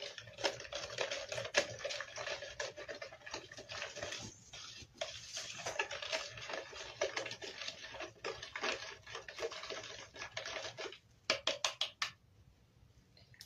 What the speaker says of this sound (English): We will mix the ashes with water.